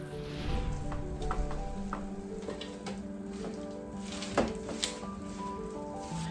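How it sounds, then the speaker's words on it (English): Marshmallow-coated Rice Krispies cereal is stirred in a pot, making soft sticky squishing and faint crackling snaps that come in scattered bursts, quiet and close with no speech. "You are gonna hear a little snap, crackle, and pop when you stir."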